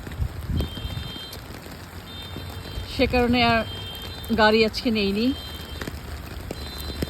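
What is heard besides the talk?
rain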